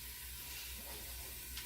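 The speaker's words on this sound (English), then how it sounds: "a couple short clips of the bacon sizzling once it starts getting brown" Bacon browning in a pan gives a steady, soft sizzling hiss, faint and brief, with no talking over it.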